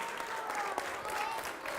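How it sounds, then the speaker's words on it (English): An audience applauds in a dense, even wash of clapping that holds steady throughout the short stretch, with faint voices mixed in. "Give him a round of applause."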